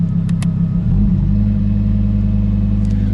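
Lamborghini Huracan Performante Spider engine with exhaust valves open, a loud, steady deep rumble close by that swells slightly near the start, with no talk.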